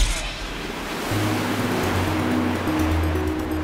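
Magical flowing water stream in a Morphle cartoon: a steady, noisy rush of water runs throughout, with low tonal hums and music-like tones underneath, no voices.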